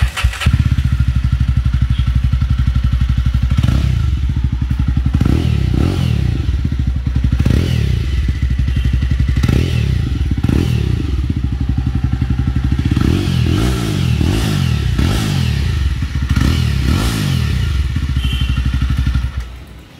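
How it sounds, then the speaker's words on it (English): A Jawa 42 motorcycle with a Red Rooster aftermarket exhaust idles and revs with a loud, throaty, popping exhaust note, close by and continuous, with occasional clattering thumps. "first Jawa 42 with Red Rooster exhaust"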